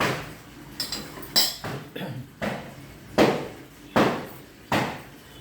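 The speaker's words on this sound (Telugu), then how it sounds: "ఇదిగోండి గిన్నె పెట్టేసాం గిన్నె పెట్టాము" A metal cooking pot is set down on a kitchen counter while gongura chutney is prepared, giving a series of sharp, close clanks and knocks spaced about half a second apart.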